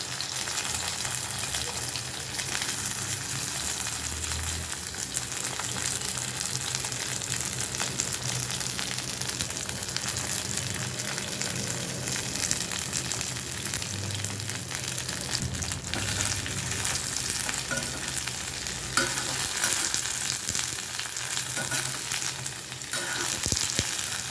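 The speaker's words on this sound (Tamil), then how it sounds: "சட்டியில் எண்ணெய் ஊற்றி வச்சுருக்குறோம் இந்த பேபி கண்ணெல்லாம் நம்ம அதில் அப்படியே ஒரு பாதி வேக்காடு வேக வச்சு எடுத்துடலாம்" Baby corn half-fried in hot oil in a pan, a steady dense sizzle and crackle that runs unbroken and fairly loud throughout, with faint occasional stirring and no talk.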